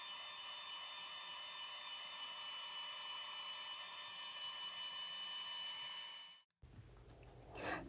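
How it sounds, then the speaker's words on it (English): A heat gun blowing steadily to dry a craft journal page, a loud, even whirring hiss held close for about six seconds before it cuts off abruptly, followed by faint handling noise. "I'm just going to use my heat gun to start this, the drying process"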